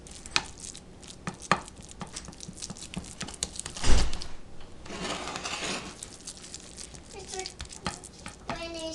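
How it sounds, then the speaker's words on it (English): Refried bean layer for a seven-layer Mexican dip being mashed and spread smooth in a pan, with repeated soft scraping and tapping strokes, a louder knock near the middle, and someone talking in the background. "Just going to mush this and make it smooth in the very bottom of your pan."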